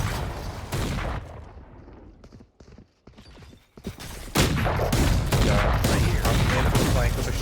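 Shotgun blasts in a competitive tactical shooter match, loud heavy bursts opening and closing the stretch with a quieter gap of scattered shots and clatter between, game noise dense throughout.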